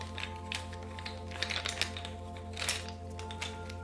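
Blocks being shuffled by hand for a card reading: soft, irregular clicking and tapping taps at close range over a steady low electrical hum.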